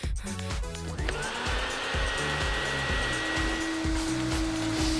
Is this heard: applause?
no